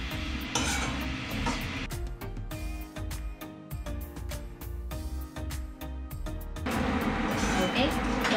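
Semolina (rava) roasting in a pan, with a spoon scraping and stirring against the metal in steady, repeated strokes over a soft background sizzle.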